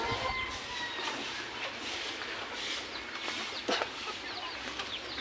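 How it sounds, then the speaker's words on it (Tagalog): Birds call outdoors with repeated clucking, fowl-like sounds over a steady wash of background noise, moderately near and continuous. "mayroon pa rin po tayong ibon ayan po, mga ibon"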